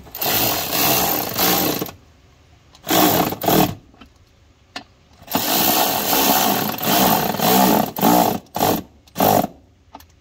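Bursts of a power tool snug down bolts on an S&B cold air intake on a Ford diesel, long loud whirring runs broken by short pauses and quick blips, close up with no talking.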